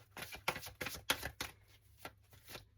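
A deck of cards being shuffled by hand, a series of quick riffling bursts and soft slaps, close and fairly quiet.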